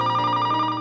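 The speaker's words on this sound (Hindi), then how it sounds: "फोन की घंटी" A steady electronic telephone ring tone, loud and continuous, with no voices.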